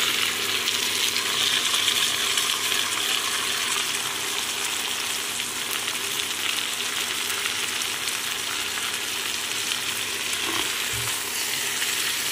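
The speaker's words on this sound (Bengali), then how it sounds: "দিয়ে দেবো আগে থেকে ম্যারিনেট করে রাখা চিকেন।" Marinated chicken fries in a pan over browned onions, giving a steady, even sizzle and hiss that runs unbroken throughout, with a faint clunk near the end and no talking.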